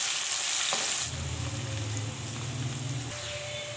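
Medium-size sliced onions hit hot oil in a pan for a dhaba-style dal chana, a steady close sizzle and bubbling hiss that settles into continuous frying after the initial splash, with no talking.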